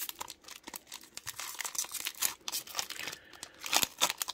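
A Pokemon trading card booster pack from Shining Fates is ripped open up close, with dense crinkling and tearing foil in rapid bursts and no talk.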